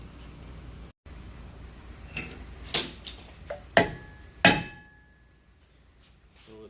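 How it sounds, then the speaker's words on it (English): A hammer knocks around the edges of a rear brake rotor on a Chevy Impala, landing a handful of sharp, irregular metallic strikes that grow louder and ring briefly, close by over quiet background. "it's time to get a hammer and knock around the edges of the"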